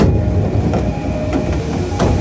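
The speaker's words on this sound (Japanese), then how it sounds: "電車は恵比寿駅に到着。" A JR East commuter train pulling into Ebisu station, heard from inside the car as a steady loud rumble with rhythmic clickety-clack of wheels over rail joints and no speech.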